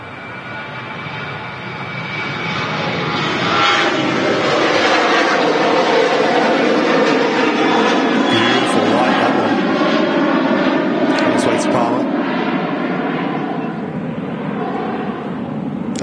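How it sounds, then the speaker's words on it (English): Ryanair airliner jet engines on the take-off roll at Manchester Airport, a steady loud roar that swells over the first few seconds and holds, heard from a distance with a broad rumbling hiss. "Ryanair, take off roll."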